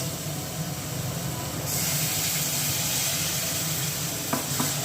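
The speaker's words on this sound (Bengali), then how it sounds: "কষানো চলছে পেঁয়াজ রসুন আদা বাটা দিয়ে আর জিরে গুঁড়ো ধনে গুঁড়ো দেওয়া রয়েছে" Onion, garlic and ginger paste sautéing with cumin and coriander powder, a steady close sizzle and hiss that grows louder midway, with a couple of light stirring knocks near the end.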